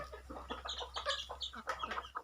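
A rooster from a native backyard flock in Chavara, Kollam gives a quick series of short, sharp clucking calls up close, with a low steady hum underneath.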